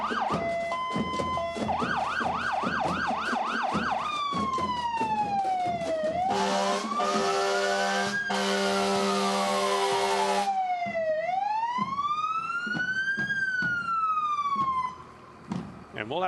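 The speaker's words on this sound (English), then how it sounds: "And we'll have to contend with the fire truck siren also while we're at it." A loud fire truck siren from a pumper at a Santa Claus parade in Stoney Creek cycles through yelping, rapid warbles and long rising-falling wails, with a blaring air horn burst in the middle, continuous and close throughout.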